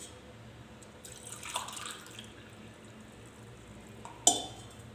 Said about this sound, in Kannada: ಇದಕ್ಕೆ 2 ಗ್ಲಾಸ್ ನೀರು ಹಾಕ್ತಾಯಿದ್ದೀನಿ